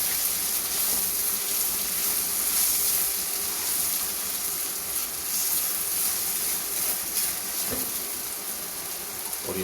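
Arbi (taro root) curry masala with a spoonful or so of yogurt fries steadily in a pan, a continuous hiss and crackle of moisture cooking off, close and fairly loud with no talk.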